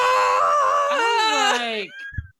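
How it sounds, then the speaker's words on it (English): A Howie scream sound effect from the film Serial Mom: one long, shrill, wavering wail that lasts about two seconds, then drops off abruptly and leaves a faint tail. "This is called a Howie scream."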